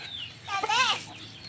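A single chicken lets out a short, warbling cluck close by during feeding, rising and falling, against quiet background chatter.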